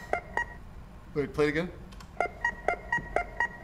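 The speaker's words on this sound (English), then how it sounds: "That's the sound of Chaser's credit card getting denied." A denied-credit-card sound effect from the video game Chaser plays as a catchy, rhythmic run of short electronic beeps, with a person speaking briefly partway through.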